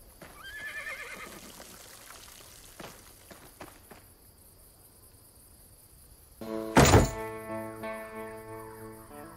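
A horse whinnies in a Desperados 3 Wild West game cutscene, a rising high call early on, then soft hoof and rustling sounds and a sudden loud burst near the end, set against a faint insect chirr.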